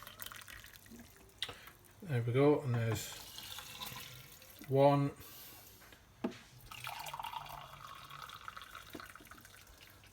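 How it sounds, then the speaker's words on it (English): Boiled water poured from a kettle into a cup of rice, two short splashing pours heard close up, with a person talking between them. "So I'm then going to use my boiled water. Pour that into a cup."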